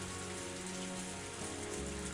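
Heavy downpour from the Higurashi Tatarigoroshi game, a steady dense hiss of rain striking surfaces, loud and continuous with a faint low hum beneath it.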